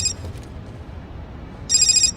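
An old telephone rings in a scene from a Blade film, with a bright burst of bell ringing at the start. A quiet stretch follows, then another loud ring begins near the end.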